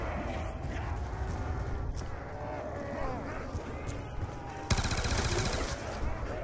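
Rapid automatic gunfire from a weapon with the Double Tap perk in Call of Duty Black Ops 2 Zombies on Nuketown, dense bursts over a busy game soundscape, with a sharp louder burst near the end.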